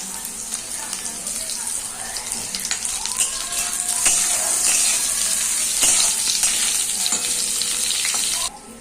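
Vegetable stems go into a hot pan with a paste of white mustard and garlic, setting off a loud, close, continuous sizzle with scattered clicks and scrapes that cuts off abruptly at the end.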